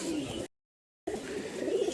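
Pigeons coo softly in a small loft, low murmuring calls broken by a brief silent gap before the cooing resumes.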